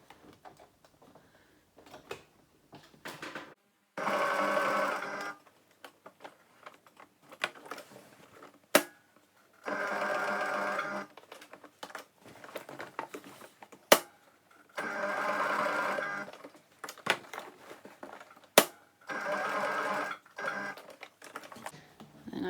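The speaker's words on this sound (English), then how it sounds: "I'm just going to sew this." A sewing machine stitches the handles onto a tote bag in several separate bursts of a few seconds each, a close, steady motorized whir between quiet pauses filled with handling clicks and sharp taps.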